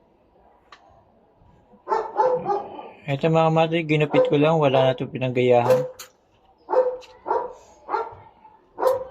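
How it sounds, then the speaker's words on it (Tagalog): A neighbor's dog barks in short bursts of sharp yips and a long whining, howling stretch, fairly close and loud, while a person talks in between. "Medyo maingay lang yung aso sa kapitbahay"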